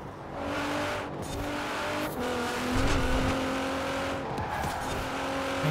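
Race car in a Forza Horizon 4 night race, engine droning and revving steadily with tire squeal and skidding layered over it, loud and continuous throughout.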